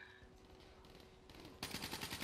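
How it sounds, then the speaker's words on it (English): Rapid automatic gunfire from a video game shooter rattles in quick bursts, faint at first and growing denser and louder toward the end, with no voices. "You lay down suppressing fire"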